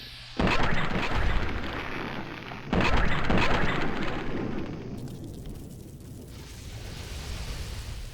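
Two heavy gunshots in Fallout 3, each a loud booming crack with a long decaying tail, a few seconds apart, followed by a quieter third impact and fading ambience.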